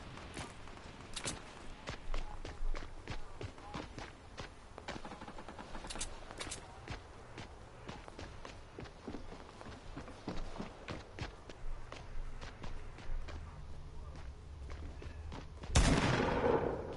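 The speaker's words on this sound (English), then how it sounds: "I have no idea how these shots are even hitting people" Rapid bursts of video-game gunfire, sharp repeated shots in irregular clusters alongside occasional footstep-like taps, fairly quiet overall, ending in a louder burst of noise.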